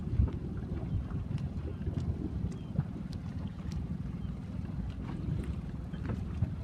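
Strong wind buffets the microphone while a Sabot dinghy sails against the current, producing a steady, loud low rumble of wind and water with occasional faint splashes and no voices.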